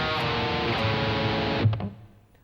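Distorted electric guitar playing measure six of the verse, fast chugging hits on the open low E that end in a sharp muted stop, leaving a brief decaying ring.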